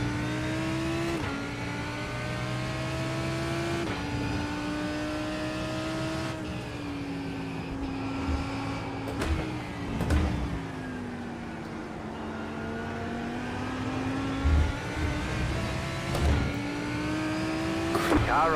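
A racing car's engine in the iRacing sim races through a tricky corner, holding a steady tone with pitch dips and climbs as it brakes and accelerates, mixed with a few thumps and bumps while a voice talks over it.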